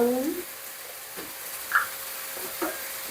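Tomatoes sauté in a pan for fish curry with a soft, low sizzle and faint stirring clicks, heard close and quiet with a brief voice at the start.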